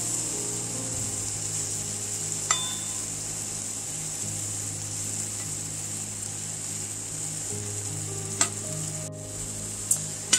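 Frozen cod fillets frying in a skillet over medium-high heat give a steady, even sizzle with a low hum beneath, broken by a few faint clicks and taps.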